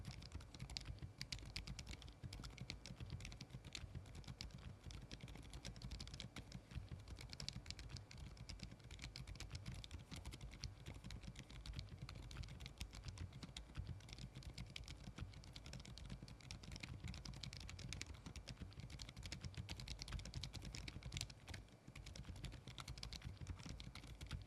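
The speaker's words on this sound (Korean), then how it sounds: "이렇게 닌자 N2 프로 당근 저소음 스위치 타건을 해봤는데요" Continuous typing on a Monstargear Ninja N2 Pro mechanical keyboard fitted with silent switches, captured with a close microphone: a steady, dense stream of soft, muffled keystrokes with no talking.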